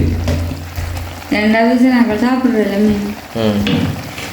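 Fish curry bubbles and sizzles in a pan on the stove, steady and close, while a person talks over it.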